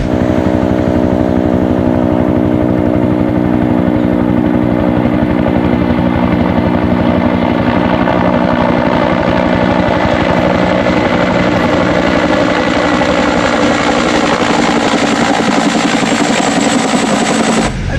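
A helicopter in flight, a loud, steady, close rotor chop with a dense pulsing beat and engine roar that fills the whole stretch without pause.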